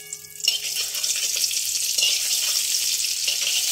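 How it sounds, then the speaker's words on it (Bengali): Half a spoon of butter hits hot oil left from frying mixed vegetables, and after a quiet start a bright, dense sizzle fills the rest, steady and close with no talking. "এবার সবজি ভাজা এই তেলেই দিয়ে দিলাম হাফ চামচ বাটার।"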